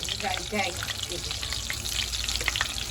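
Steady sizzling of ginger garlic paste frying in a hot pan, with occasional stirring scrapes, continuous and fairly quiet.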